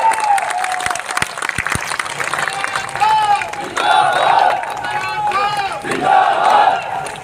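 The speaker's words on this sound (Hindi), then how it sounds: "जोरदार ताली बजाकर रंधावा साहब का स्वागत।" Crowd at a Congress party election rally in Dudu, Rajasthan, clapping and cheering loudly throughout, with shouts rising in waves and a voice calling out over the noise.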